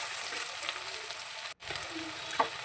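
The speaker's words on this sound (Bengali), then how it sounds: "দিয়ে দিচ্ছি 2টো পেঁয়াজ কুচি করে দিয়েছি, একটু নাড়াচাড়া করে নিচ্ছি।" Two chopped onions sizzle and fry in a pan while being stirred, a soft continuous crackle with occasional scraping clicks of the spoon against the pan.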